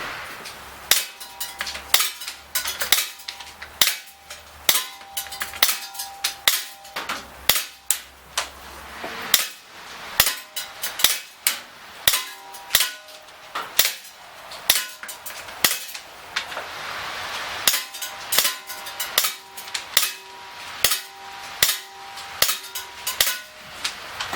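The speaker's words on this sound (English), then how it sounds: "We're going to put some more shots into this target, just for fun." Rapid series of sharp shots from a Smith & Wesson M&P R8 CO2 BB revolver fired at a target, loud close cracks in quick strings with short pauses between, no talking.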